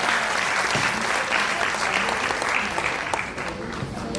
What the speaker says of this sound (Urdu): آپ کی ایک بار پھر بھرپور تالیاں